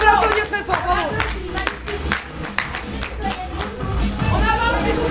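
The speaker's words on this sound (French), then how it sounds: "On peut l'applaudir très fort, bravo" A theatre audience applauds a citizen with a standing ovation during L'Assemblée des Femmes: scattered, sharp claps come and go beneath loud, animated voices talking over them.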